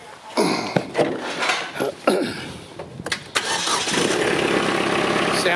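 A diesel engine on a rural property cranks over and catches, settling into a steady running rumble, heard close, with a few sharp knocks and clatters beforehand.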